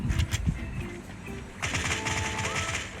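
Rapid automatic gunfire in the mobile battle royale game Sausage Man, bursts of shots starting loud near the beginning, then a dense continuous rattle of fire through the second half with game effects, no talk.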